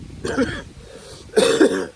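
Two rough, close coughs separated by a short pause, the second louder and more forceful.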